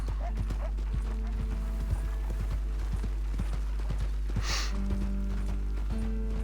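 Horse hooves clip-clop steadily along a road in the video game Red Dead Redemption 2, a close, regular rhythm of hoofbeats over a continuous low background hum.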